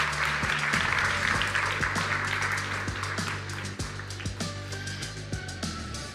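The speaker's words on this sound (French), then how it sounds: "On l'applaudit bien fort." An audience applauds a presenter at a live event with sustained, dense clapping that gradually thins out, with a low musical bed playing beneath.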